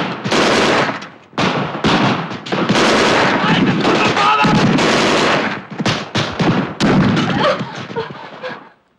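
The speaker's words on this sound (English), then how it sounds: "to see Virginia romping round the Limousin with a machine gun, picking off Nazis" Machine gun fire rings out in a WWII war film scene, loud and close, with dense bursts of automatic shots broken by short pauses and mixed with explosive blasts.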